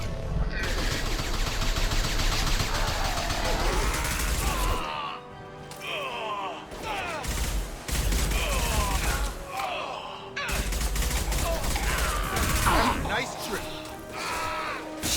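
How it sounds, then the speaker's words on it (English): Gunfire in the Mass Effect 2 video game, heavy shotgun blasts and bursts of combat shooting in a loud, busy battle mix, with short pauses between volleys and game voices mixed in. "Let me just shoot my shotgun, because why not?"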